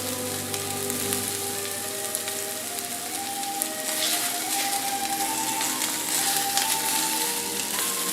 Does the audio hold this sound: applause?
no